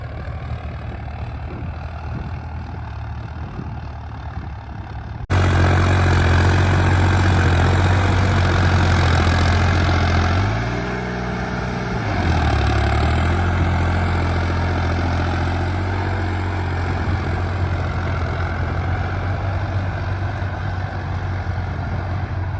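A tractor engine idles in a ploughing field, a steady loud low rumble that starts abruptly, dips briefly in speed midway, then settles back into its even drone.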